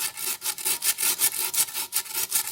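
Rapid rhythmic scraping of a wire brush or file scrubbing rust off an old, salvaged water pump, loud and close, with even back-and-forth strokes about four per second and nothing else heard.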